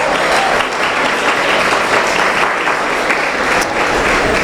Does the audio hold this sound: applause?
yes